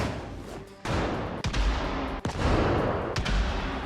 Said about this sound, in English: On day 35, I awoke to gunfire.